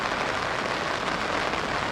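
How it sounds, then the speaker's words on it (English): Heavy rain pours down steadily in a dense, even hiss, with no letup, at an outdoor disc golf tournament round. "Now you can just hear it pouring. The rain has started."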